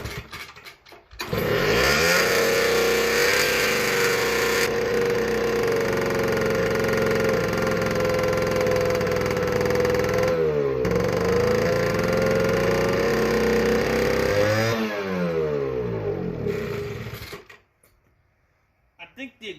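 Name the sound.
McCulloch 170 arc welder engine running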